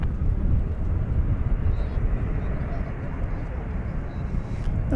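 Airplane at DFW airport, a low broadband roar with steady rumble throughout, heard from a distance outdoors with wind in the microphone.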